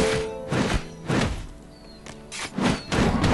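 Heavy booming thuds of cannon fire in the video game Dungeons 2 fire in a steady rhythm, roughly every half second to second, loud and close, with no talking.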